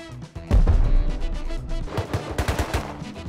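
Rapid automatic gunfire in the survival game Rust, likely an MP5 firing bursts in a firefight over a large rig, loud and close with repeated sharp volleys over a rumbling low end.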